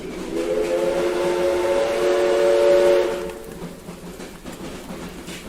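A steam train sound effect in a Sherlock Holmes audio drama: a loud sustained steam whistle over the rolling clatter of the rails, then the whistle cuts off and the rumble carries on more quietly.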